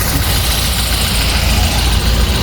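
A motorcycle engine idles steadily, a loud, close, unbroken low rumble with a dense buzzing texture and no talk over it.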